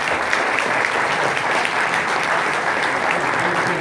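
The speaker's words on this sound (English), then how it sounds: "How about a round of applause for" An audience at a League of Women Voters forum in Ventura County gives loud, dense, sustained applause that holds steady throughout.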